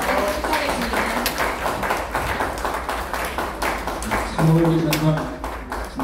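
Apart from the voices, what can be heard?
audience applause at award ceremony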